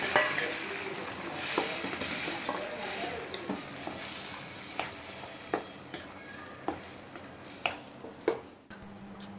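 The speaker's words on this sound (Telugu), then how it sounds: "టమోటా ఆనియన్స్ కలిపినది ఇలా వేయించుకోవాలి" Steady sizzling of a tomato and onion mixture frying in oil in a pan, with periodic scraping and tapping of a spatula stirring it, close and continuous.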